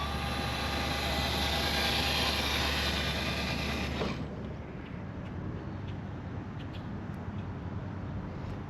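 Cross RC EMO X3 off-road recovery truck in low gear, its electric motor whining loud and steady at top speed, then dropping off suddenly to a quieter rumbling drive.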